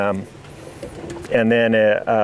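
Racing pigeons coo around their loft in a stretch of short, throaty, repeated calls that grow louder toward the end, with a brief lull between bursts.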